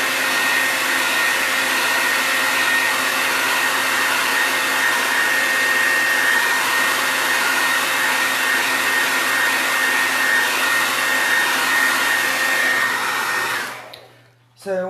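A hair dryer runs steadily and loudly for about fourteen seconds, drying chalk transfer paste on a Christmas decor piece, then cuts off abruptly near the end.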